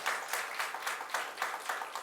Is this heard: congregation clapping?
yes